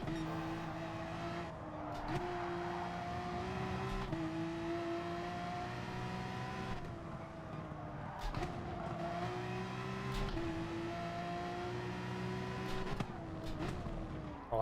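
Lexus and Porsche racing cars in the Gran Turismo Sport video game, engines revving hard with rising pitch and repeated gear shifts, close and loud, with brief tire squeals and no talk.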